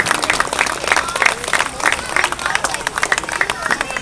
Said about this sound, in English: And everybody, a big round of applause for Aberdeen BMX and Kyle Oswald, track operator.